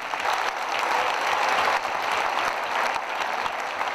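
Audience applause at a dance competition: dense, steady clapping from a large crowd, loud and continuous for the whole stretch, with no voices over it.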